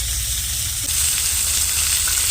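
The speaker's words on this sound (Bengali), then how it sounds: "ভোলা মাছ কটা না ভাজা বসিয়েছে" Bhola fish frying in a pan give a continuous close hiss of hot oil that grows a little louder partway through, with no voices over it.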